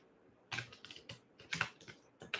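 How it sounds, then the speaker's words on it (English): A deck of tarot cards is shuffled close by in a quiet room: short, crisp riffling bursts separated by pauses, each flurry quick and papery. "I'm just going to shuffle these cards."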